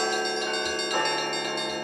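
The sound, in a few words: church bell ringing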